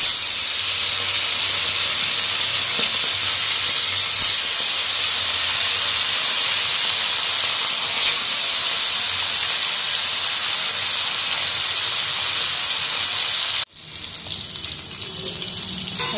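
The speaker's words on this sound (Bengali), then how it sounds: "এখন আমি এই ভোলা মাছগুলো সব ভেজে নেব" Bhola fish frying in hot oil in a wok, a steady loud sizzling hiss that runs unbroken for most of the time before dropping off abruptly near the end.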